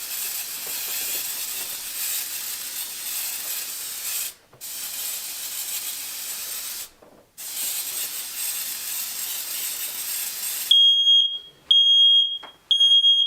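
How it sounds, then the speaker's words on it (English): Google Nest Protect smoke alarm during a smoke test: a loud, steady broadband hiss, likely the smoke spray, breaks off twice briefly, then sharp high-pitched alarm beeps sound in short repeated bursts. "a test that I did to test how quickly it would take the Nest Protect to activate itself after detecting smoke"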